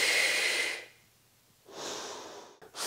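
Breathing during an arm workout: a long, loud exhale, a pause, then another strong breath through the nose, close and alone.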